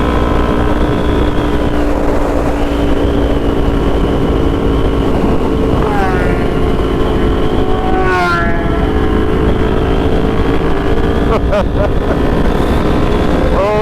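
Suzuki GSX-R750 and Kawasaki ZX-10R sport motorcycles revving, their engines rising and falling in pitch through a steady loud roar, heard from nearby with heavy wind noise and some talking mixed in.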